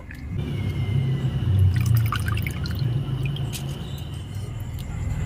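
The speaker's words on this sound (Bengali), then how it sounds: "এই ছাঁকনিতে করে ডালগুলো ছেঁকে তুলে নেব" Washed moong dal draining through a sieve, a continuous close rush of trickling water with dripping and small splashes throughout.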